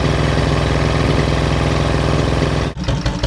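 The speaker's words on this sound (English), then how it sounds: "So we'll just run the engine until I run out of rainwater, and that'll be my long run test." The inboard engine of a steel sailboat idles during a long run test, a loud, steady mechanical chug with an even low-pitched pulse. Near the end the note briefly dips and the running turns rougher.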